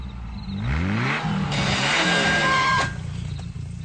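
A Ferrari sports car pulls away, its engine rising in pitch through a couple of quick revving gear changes, fairly close and loud, then settling into a steady drone.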